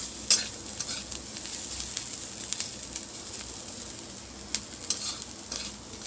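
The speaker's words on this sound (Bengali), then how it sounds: "পেঁয়াজগুলো ভাজা হচ্ছে, একটু আধ ভাজা হবে, তখন শাকটা দিয়ে দেবো।" Onions frying in a pan for a village-style kolmi shaak dish give off a soft, steady sizzle, with a few sharp spatters and occasional stirring scrapes close by.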